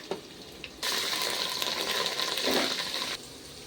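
A home cook fries garlic in hot oil with onion, bay leaf and whole spices, a steady loud sizzle that swells in after a brief quiet start and runs unbroken, then drops away near the end.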